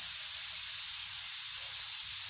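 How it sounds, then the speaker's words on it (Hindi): A steady, loud hiss of steam runs continuously without a break, a pressure cooker venting while boiling chickpeas, with no voices present. "कुकर में लग रही हैं सीटियाँ, छोले उबल रहे हैं।"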